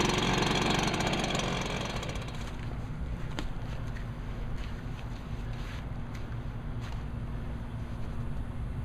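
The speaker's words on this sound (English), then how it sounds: "I'm going to let it idle till it warm up." A Stihl SR-450 mist blower's small two-stroke engine idles while warming up, a steady low rumbling drone that is close and continuous, with a brief brighter surge at the start and no talking.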